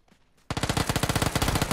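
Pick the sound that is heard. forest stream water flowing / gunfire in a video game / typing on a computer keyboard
gunfire in a video game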